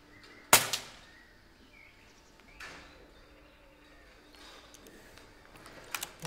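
A single sharp airgun shot cracks out at a farmyard pest such as a dove, feral pigeon or rat, followed by a faint thud and quiet outdoor ambience with a few soft knocks.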